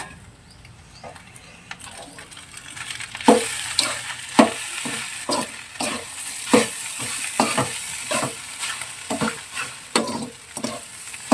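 Egg rice with biryani masala frying in a pan, stirred with steady scraping strokes close by over a constant sizzle, starting quiet and growing busier and louder after a few seconds, with no voices.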